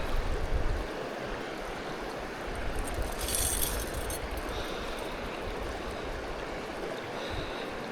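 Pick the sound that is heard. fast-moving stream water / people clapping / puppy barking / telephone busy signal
fast-moving stream water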